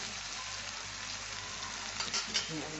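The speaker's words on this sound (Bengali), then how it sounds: "এই আলুটা একটু ভাজা ভাজা হয়েছে" Potatoes fry in a pan with a soft, continuous sizzle and a few light stirring scrapes near the end. The sound is faint and close, with no voices.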